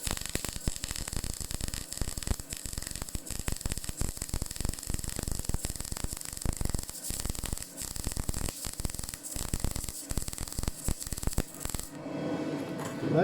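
A GYS EAZYMIG 180XL-4 MIG welder runs a bead with the push technique on rusty metal, giving a steady, close crackling sizzle with sharp pops for about twelve seconds before cutting off.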